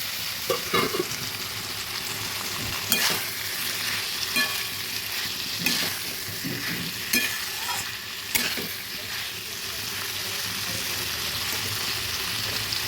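Chickpeas and paneer fry in a pan with a constant sizzle, broken by several sharp scrapes and knocks from stirring and pressing, close up and with no talk.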